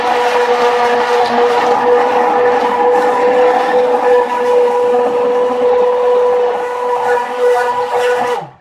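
A kitchen blender runs steadily on a thick mixture with added water, a loud, continuous whirring motor hum that holds for several seconds and then cuts off abruptly.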